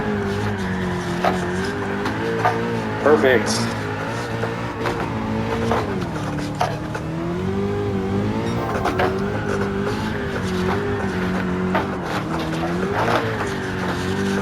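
A D1 drift car sliding through turns in Gran Turismo 7, engine droning and revving steadily with tyre squeal rising through the slides, loud and continuous from start to finish.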